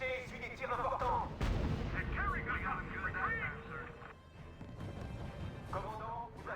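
Gunfire and artillery in the R.U.S.E. strategy game rumble continuously as a steady battle din, with bursts of rattling fire beneath a French-speaking voice.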